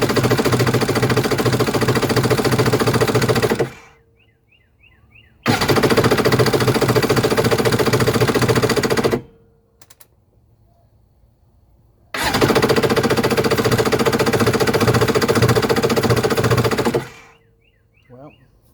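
A Kawasaki 750 STS jet ski engine cranked on the starter with choke applied, three long loud rhythmic churning bursts separated by near silence, close up and failing to catch.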